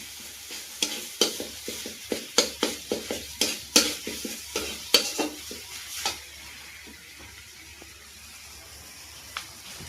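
Chopped tomato with coriander powder, cumin powder and Kashmiri chilli sautéed in a pan, a spoon scraping and clanking in a quick run of about a dozen strokes over soft sizzling, then the sizzle fading to near quiet.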